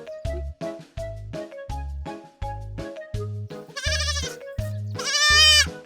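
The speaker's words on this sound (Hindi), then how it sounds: "बकरी का बच्चा कैसे रो रहा है?" A weak baby goat bleats over and over, in a steady rhythm of loud, close, wavering cries that grow more strained toward the end, with no voices.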